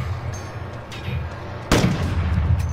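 Gunfire in the video game Call of Duty Warzone: a steady background of distant shots, then a loud, close blast at the midpoint followed by continued firing, with no talk.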